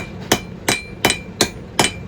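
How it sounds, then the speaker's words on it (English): Five sharp, evenly spaced hammer strikes on a small metal leaf at a blacksmith's forge, each blow ringing briefly and loudly, about one every 0.37 seconds, with no voices. "A little leaf like this, I'll use 3 different hammers."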